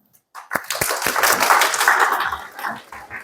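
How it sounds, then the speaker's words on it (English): A university audience claps and applauds for a few seconds, swelling quickly, holding steady, then tapering off, with a faint voice or two underneath. "If you picked the first one, clap your hands."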